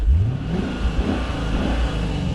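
A 2020 Lexus RC F Track Edition V8 engine revs up close, rising sharply in pitch at the start and then holding a loud, steady throaty roar with small surges and no talking.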